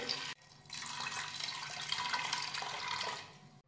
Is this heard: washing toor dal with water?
yes